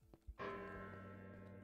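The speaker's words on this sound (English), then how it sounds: "Why am I hearing bells?" Bells in a Minecraft modpack strike once after a couple of soft thuds, ringing out with a clear, bright tone that slowly fades and sustains over a quiet background.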